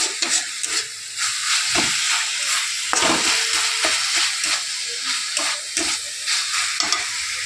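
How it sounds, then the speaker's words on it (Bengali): Boiled greens (saag) fry in a pan with a loud, close hissing sizzle and steam, broken by repeated scraping and stirring sounds. "শাকটা সেদ্ধ হয়ে গেছে বন্ধু ভাজা ভাজা করে নামিয়ে নেবো ব্যাস"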